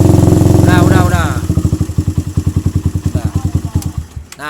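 Suzuki Satria FU motorcycle engine, which has a faulty regulator-rectifier, idles steadily and is then given short blips of throttle, settling into a fast, rhythmic putter with a voice talking over the start.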